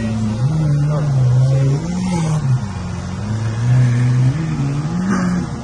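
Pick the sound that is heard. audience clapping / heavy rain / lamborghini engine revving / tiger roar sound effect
lamborghini engine revving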